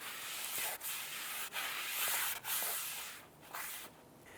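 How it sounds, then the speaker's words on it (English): Someone wipes out the inside of a Toyota Tundra rear brake drum with a rag after spraying it with solvent, giving rough rubbing strokes broken by short pauses between passes, close and alone. "take the drum itself, spray it down with some solvent, and wipe out any of the factory oils"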